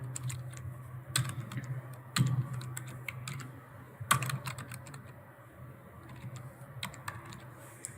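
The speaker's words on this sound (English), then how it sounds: "So we're going to start by typing in the title, Internships Available." Someone types on a computer keyboard in irregular bursts of soft clicks, with a few louder keystrokes standing out against a quiet room.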